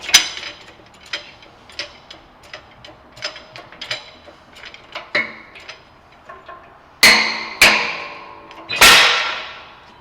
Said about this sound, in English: we actually have to pop out the old hub assembly from the brake rotor itself. To do that, of course, we're going to use the old trusty press.